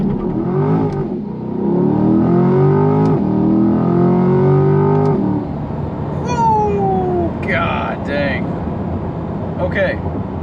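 A C8 Corvette's engine revs hard on a launch-control start and climbs through gears, the pitch rising and dropping with each shift, followed by faint squealing tones.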